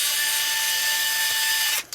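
Screwdriver work on an Xbox 360 S console, a continuous close, bright, hissing ratcheting whir held for nearly two seconds before cutting off abruptly.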